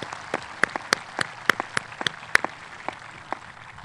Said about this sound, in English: Please join me in a round of applause to honor these members of the class of 2015